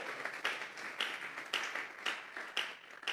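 A church congregation claps as an offering of praise: steady, fairly faint rhythmic applause with regular sharp accents, heard from a distance with no talking over it.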